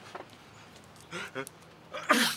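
A short burst of breathy sounds building into one sharp, loud sneeze at the end, fairly close and otherwise quiet.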